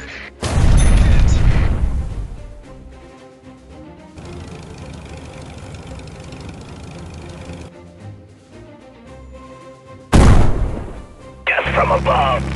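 Tank shells in the mobile game Tank Stars fire with a deep booming blast and land with heavy impacts, loud and close, separated by a long stretch of game music with some talk.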